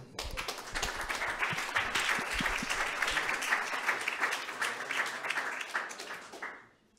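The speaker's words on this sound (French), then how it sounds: "Je propose d'applaudir." Audience applause at a French world recycling day event, a dense steady burst of many hands clapping for about six seconds before fading out quickly to silence, with no voices heard.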